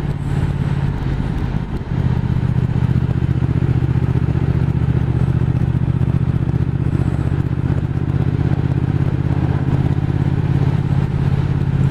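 Triumph Speed Twin motorcycle held at a steady 2000 rpm in fifth gear while climbing a snowy mountain road, a continuous low, even engine drone with wind rumble, brief dip near the start, no talking.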